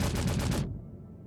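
Ship-mounted guns on an Origin Jumpworks 400i firing in Star Citizen, a short, fast burst of rattling shots lasting about half a second before dying away into a faint tail.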